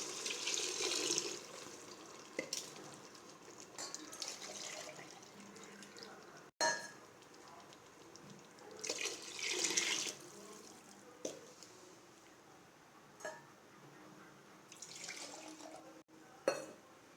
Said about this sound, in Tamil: இப்போ நம்ம அரிசிக்கு காய்க்கு தேவையான அளவு தண்ணி ஊற்றிடலாம்.